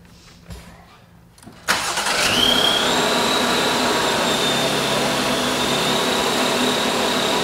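Quiet rustling gives way to a Jeep engine cranking and catching, then a loud, steady idle with a breathy, wheezing hiss that carries on unbroken.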